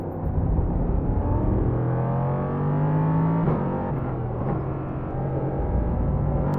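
An engine drones and shifts pitch as a car drives and takes a turn in a VR racing game, a steady, close motor hum with rising and falling tones and no talking.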